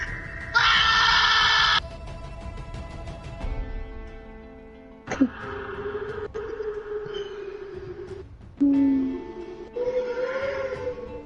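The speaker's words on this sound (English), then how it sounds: "You might hear the screaming." Screams and drawn-out wails from the video game Call of Duty: Vanguard during a Halloween event, heard in loud bursts between other game effects and droning tones.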